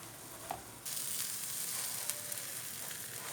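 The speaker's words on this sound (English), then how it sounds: "Once your butter starts to melt, you put your tel shehirge into the pan, and we will fry this in here." Tel kadayif (shredded pastry) fries in melted butter in a pan, giving a steady close sizzle that starts abruptly after a brief quieter moment and then holds even, with no talking.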